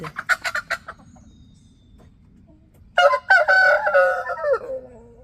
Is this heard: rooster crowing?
yes